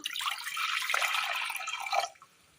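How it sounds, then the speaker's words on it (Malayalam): Water pours into a cooking pot set on the stove for boiling eggs, a close, steady splashing stream of about two seconds that then stops. "അടുപ്പത്തൊരു ചട്ടി വെച്ച് കൊടുത്ത് അതിലേക്ക് അല്പം വെള്ളം ഒഴിച്ചു കൊടുക്കാം"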